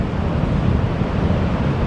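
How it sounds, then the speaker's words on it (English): Big waves rolling into the St Lucia estuary mouth on a beach launch site, a steady, loud roar of surf with wind buffeting the microphone throughout. "There's a couple of big waves currently running into the estuary mouth."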